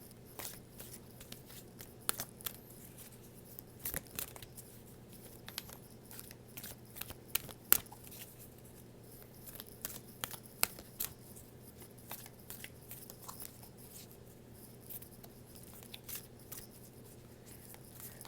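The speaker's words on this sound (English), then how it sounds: "as I'm just kind of shuffling the deck" Soft, repeated riffling and tapping of cards being shuffled, quiet and close, in irregular bursts with no talking.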